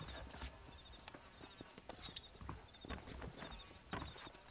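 Hooves of a horse in Red Dead Redemption clip-clopping at a walk, a quiet, irregular run of distinct thuds and taps over a faint background.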